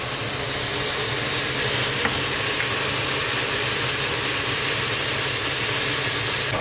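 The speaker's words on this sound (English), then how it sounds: "you can see how these onions are sizzling" Chopped onions sizzle in hot oil in a pan, frying as the base for dal, a steady dense hiss holding close and even for the whole stretch with no talk over it.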